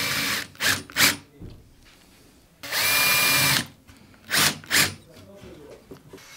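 A power drill drives short screws into a workshop drawer, with several brief whirring bursts and one longer sustained run, loud and close, separated by quiet pauses.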